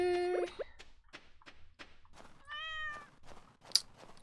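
Cat in the farming game Stardew Valley, a clear meow at the start and another drawn-out meow midway, between soft taps and thuds of game actions.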